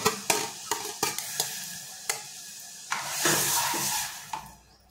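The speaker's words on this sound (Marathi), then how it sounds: "आपल्याला सगळी डाळ अशी ओतून घ्यायची आहे" A sharp sizzle rises as masoor dal is poured into a hot pan, with spoon scrapes and taps against the metal.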